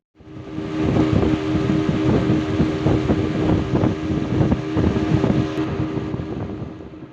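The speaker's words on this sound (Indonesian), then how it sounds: "harus melewati laut menggunakan motor Yonsong menuju Kampung Saga." Steady loud drone of a longboat outboard motor crossing open sea toward a coastal village in South Sorong, Papua, with rushing wind buffeting the microphone throughout and no voices.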